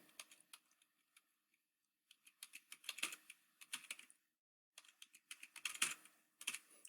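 Someone types a password on a computer keyboard in quick clustered bursts of close, crisp key clicks, with brief pauses between runs of keystrokes and no voices.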